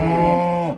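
A single cow mooing from a herd just separated from weaned calves on a farm, a loud, close, sustained low call that holds steady and then cuts off, with no one talking.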